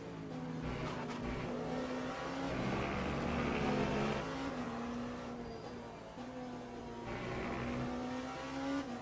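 Race cars in the sim racing game Le Mans Ultimate, including a GT3 car, roar and rev close together during an overtake in an endurance event at Qatar, with steady loud engine drone, pitch shifts and brief swells.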